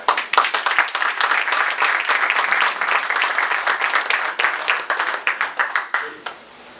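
Sustained audience applause at a Massport/EBNHC press conference: dense, steady clapping from a crowd that holds strong for several seconds, then thins into scattered claps and fades out near the end.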